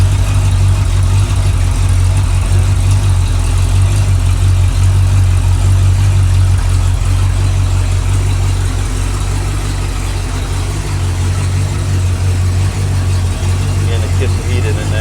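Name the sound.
rebuilt small-block Ford V8 idling at about 700 RPM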